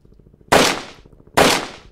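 Two loud, sharp gunshots from Hand Simulator ring out less than a second apart, each with a short decaying tail, over a faint low hum.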